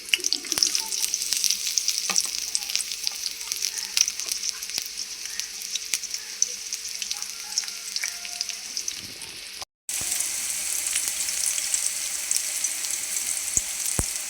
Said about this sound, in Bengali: তেলের মধ্যে আমি পেঁয়াজগুলো দিয়ে দিতেছি।